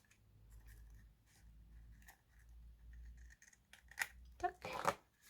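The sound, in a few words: scissors cutting off surplus packaging material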